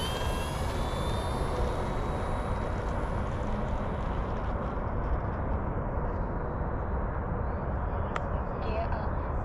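A CNHL Super Tucano 1600mm RC plane in flight gives a steady, unbroken drone blended with heavy wind rush, holding at the same level throughout with a faint high whine on top.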